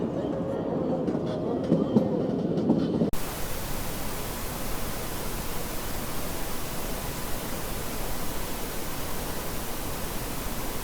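The Kalka–Shimla toy train runs along its narrow-gauge railway, a dense steady rumble and rush of wheels on track that fills the clip after a brief quieter stretch with a voice at the start.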